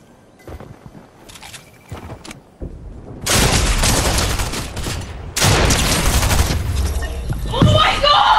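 Fortnite gunfire bursts in dense, loud rapid volleys, starting with sparse shots and then swelling into sustained fusillades, with a voice speaking over the shooting.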